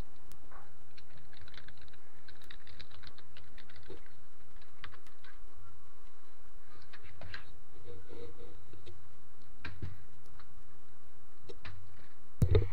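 Computer keyboard typing in a web address, a run of quick clicking keystrokes in uneven bursts with pauses, close and moderately loud, a sharper tap at the very end.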